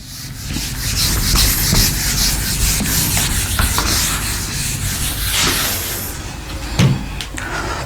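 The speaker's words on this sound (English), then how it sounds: "Let me rub the board." Duster rubbed across a classroom board, a steady scraping swish that runs continuously and fairly loud for the whole stretch, with a brief bump near the end and no talk.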